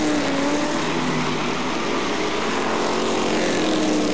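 Race cars circle during a qualifying heat for the Grand Regional at Autodrome St-Eustache, a loud, steady engine drone with shifting pitch as cars pass nearby, continuous and without talk.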